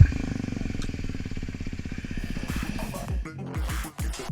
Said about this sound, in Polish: Motocyklista przejeżdża na czerwonym świetle przez skrzyżowanie i dochodzi do kolizji